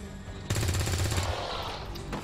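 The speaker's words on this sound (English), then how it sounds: "Nice shot." Gunfire in the XCOM 2 video game, a sudden loud burst of rapid automatic shots with a rumbling tail, close and dominant.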